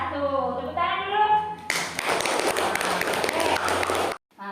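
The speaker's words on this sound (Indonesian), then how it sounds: "Tepuk tangan dulu" A classroom audience of students claps for a group that has just finished presenting a story about ethnic diversity: a burst of dense, fairly close applause that runs for about two and a half seconds, preceded by a voice and ending abruptly.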